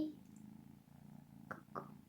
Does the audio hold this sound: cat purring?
yes